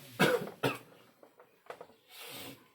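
A person coughs several times close up, two sharp loud coughs followed by smaller throat sounds and a softer breathy exhale.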